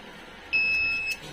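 A Luminous inverter's buzzer sounds one steady electronic beep of about half a second, close and clear over a faint background hum, with no talking.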